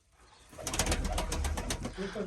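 Pigeons coo and flutter in a dense cluster, close by, with a steady layered murmur of many birds after a quiet start.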